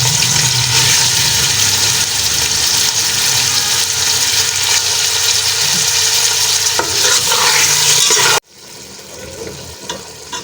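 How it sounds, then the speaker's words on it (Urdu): Half a kilo of boneless chicken fries in half a cup of oil with browned garlic and ginger, a loud, continuous close sizzle that cuts off abruptly, leaving faint quiet afterward. "چکن ہمارا فرائی ہو گیا۔"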